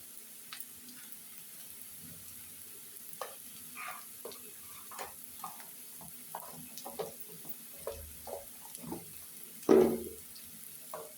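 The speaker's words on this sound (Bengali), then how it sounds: "আর এখানে যে পেঁয়াজটা ভাজতেছি" Onion frying in a pan for a Bengali red lentil bharta, a faint low sizzle with scattered soft stirring clicks and scrapes, ending in one louder knock near the close, no voices.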